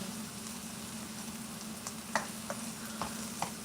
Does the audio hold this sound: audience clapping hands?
no